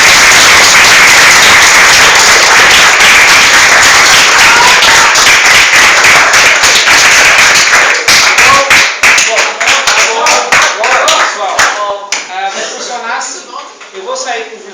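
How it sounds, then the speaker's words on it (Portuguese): A school audience applauds two students after a mock trial of Getúlio Vargas: loud, dense clapping that thins into scattered claps as voices start talking. "Com palmas para os dois"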